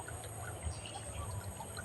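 Small stream trickles faintly, a soft low babble with scattered gentle water patter, brief and quiet with no voices.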